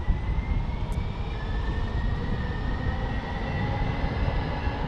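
A British Airways airliner rumbles steadily at San Diego airport, a broad low roar with a faint rising engine whine running underneath, fairly distant and continuous with no talk.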